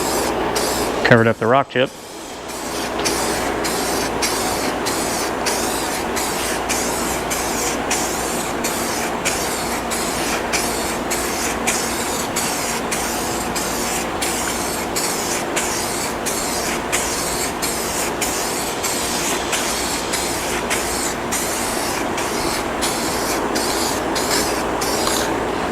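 Spray can hissing steadily while base-coating a salvaged Scion tC, a long continuous spray with regular short breaks, close and fairly loud, after a brief clatter at the start; a voice speaks briefly early on.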